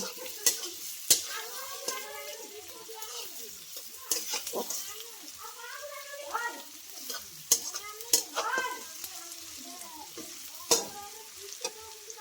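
Onions frying in hot oil in a kadai, a continuous crackling sizzle with intermittent spatula stirs and scrapes against the metal, close by and moderately loud.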